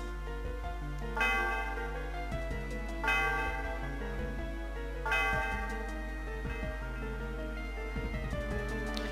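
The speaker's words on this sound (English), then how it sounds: "so we have to go ahead and ring the bell" Church bell rung in the Pokémon Black video game, three clear bright strikes about two seconds apart, each ringing out and decaying over a steady low hum of game music.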